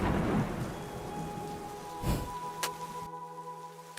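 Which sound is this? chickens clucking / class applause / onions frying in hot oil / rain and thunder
rain and thunder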